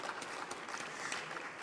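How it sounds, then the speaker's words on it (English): An audience at the 30th Afreximbank Annual Meetings applauds, a steady, even wash of clapping throughout with no speech. "She deserves a bigger round of applause for that."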